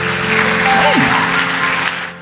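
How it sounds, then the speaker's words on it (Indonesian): Congregation applause in a church service, a dense, loud wash of clapping through the whole moment, with a sustained organ or keyboard tone and a brief sliding note beneath it. "tepuk tangan yang paling meriah buat Tuhan"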